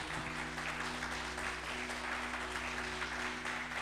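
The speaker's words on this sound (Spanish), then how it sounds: "un aplauso a Jesús" A church congregation claps together, a dense, steady applause that continues evenly throughout at moderate loudness.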